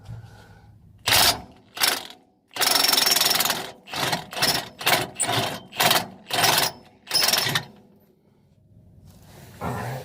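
Pneumatic impact gun working a lug nut on a motorhome wheel, firing in about ten loud rattling bursts of varying length, close and alone.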